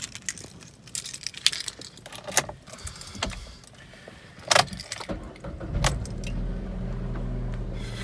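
A three-cylinder courtesy car is entered with jangling keys and clicks and knocks, then the engine starts and settles into a steady, close low idle.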